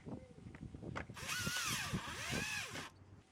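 A power tool drives a bolt and screw back into a 3rd generation Honda Odyssey door handle assembly, giving one loud, steady whirring burst of nearly two seconds, close by and with no other sound over it.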